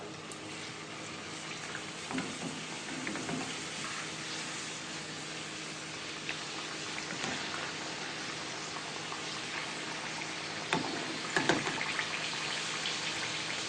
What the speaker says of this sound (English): So we're going to put them 1 by 1 into our hot oil